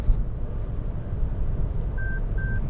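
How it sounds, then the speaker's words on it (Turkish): Two short electronic lane departure warning beeps ring out near the end, clear tones over a steady low rumble of road and engine noise inside a moving Toyota Yaris 1.5 Dream X-Pack Multidrive S. "böyle uyarı verdi. Bip bip bip diye."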